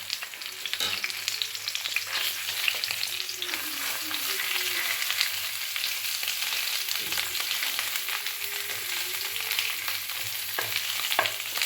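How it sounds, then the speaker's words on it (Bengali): Cumin seeds and ground yardlong bean paste fry in a pan with a dense, steady sizzle, punctuated by occasional stirring scrapes and small pops, close and continuous with no voices. "জিরেগুলো যখন ভাজা ভাজা হয়ে যাবে তখন দিয়ে দেব যে বরবটিটা আমি বেটে রেখেছিলাম"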